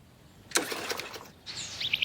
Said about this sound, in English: Don't be afraid of the birds.